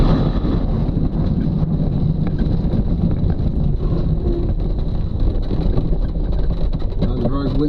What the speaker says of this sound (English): That was a very windy turn.